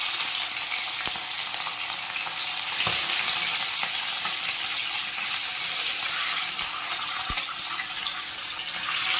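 Pieces of katla fish fry in a pan with a loud, steady, close sizzling hiss that holds continuously, broken by a few faint clicks, with no one talking.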